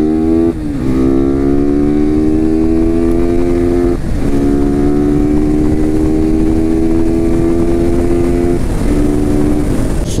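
Several motorcycles, one of them a KTM Duke 390, ride past with loud revving engines and steady harmonic drone, the pitch dipping briefly between gear changes; no talk.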